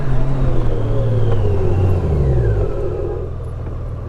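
A 2024 Honda Goldwing Tour DCT touring motorcycle slows hard during a braking test, its engine rumble and whirring drivetrain winding down steadily over a few seconds, loud and close with no talking.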